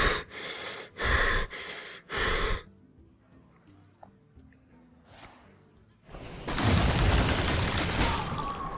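A person mimics heavy breathing with loud, close, rhythmic huffs, three sharp bursts followed by quieter rasps and then a long, sustained noisy exhale.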